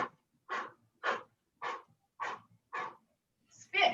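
Heavy, exaggerated breathing during a boxing workout, six sharp, rhythmic exhales spaced about half a second apart, close and clear, then a louder huff at the end.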